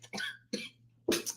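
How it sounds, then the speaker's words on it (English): A woman coughs three times in quick succession, close and fairly loud, each burst short and harsh with brief pauses between, with no talking. "Excuse me, I got like this little cough."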